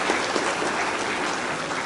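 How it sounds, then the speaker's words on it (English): An audience at an academic public-policy lecture applauds Professor Man Cho, steady, dense clapping from many hands filling the room at an even level throughout. "Please give him a round of applause."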